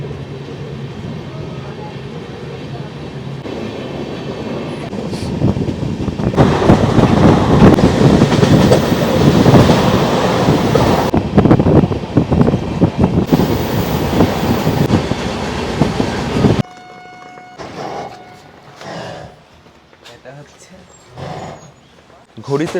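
The Kriya Yoga Express from Howrah rumbles along near Ranchi, a loud rolling clatter that swells in the middle then drops away, with people talking over it and quieter station sounds at the end.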